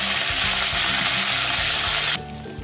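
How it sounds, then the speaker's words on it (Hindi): Butter sizzling in hot oil in a kadhai for dhaba-style dal tadka: a loud, dense, steady crackle that runs continuously, then drops to a softer hiss near the end. "एक कढ़ाई में 2 से 3 बड़ा चम्मच तेल का डालें, तेल गर्म होने दें। अब इसमें 2 से 3 टेबलस्पून बटर का डालें।"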